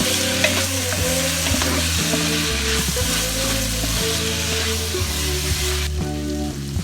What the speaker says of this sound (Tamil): மட்டன் சுக்கால கொஞ்சம் இஞ்சி பூண்டு பேஸ்ட் ஆட் பண்ணி நல்லா பச்சை வாசனை போகிற வரைக்கும் வதக்கணும்.